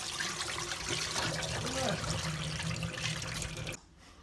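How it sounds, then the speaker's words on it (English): Murky water from washed crayfish drains and splashes steadily out of a container, a close, continuous trickling pour that stops abruptly near the end, leaving faint room noise. "drain the murky water"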